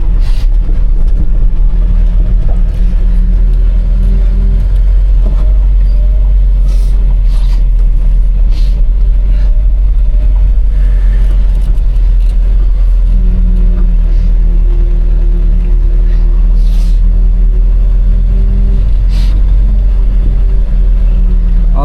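Loaded pickup truck driving at night on a narrow road, a constant loud low engine rumble and road drone with occasional shifts in engine pitch, close and unbroken, no talk.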